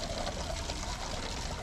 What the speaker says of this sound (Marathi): तर आता टाकीमधलं पेट्रोल काढतोय भाऊ.